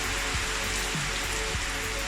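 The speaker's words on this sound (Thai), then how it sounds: "แต่ว่าด้วยสภาพอากาศวันนี้ มีฝนตก" Steady outdoor rain hisses evenly throughout, with a few soft low thumps mixed into the constant wash of drops.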